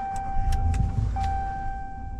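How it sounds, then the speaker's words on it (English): A 2023 RAM 1500 Laramie Crew Cab 4x4 starting up from inside the cabin, a low engine crank and rumble settling into idle with a few electronic chimes and tonal beeps, nearby and moderately loud. "foot on the brake, we can fire it up"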